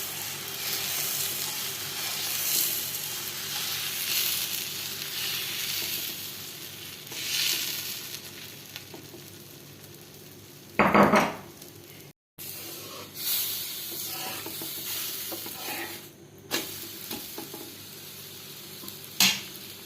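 Wheat dosa batter poured onto a hot griddle sizzles steadily, with a sharp burst of frying hiss partway through and occasional soft scraping, close and moderately loud.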